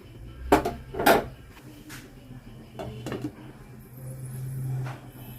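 Young jackfruit (echor) being stirred in a pot: two loud metallic clanks of the spoon against the pot up front, then softer scrapes and knocks with a low hum underneath.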